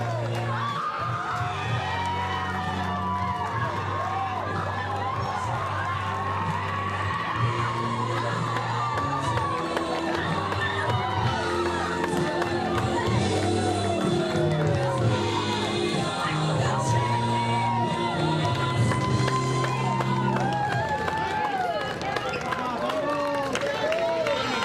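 Crowd at a 16U Premier softball national championship standing and cheering, a sustained loud mix of shouts, whoops and applause, with a commentator talking over it.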